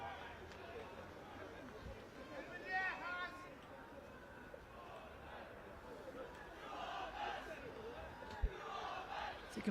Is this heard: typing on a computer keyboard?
no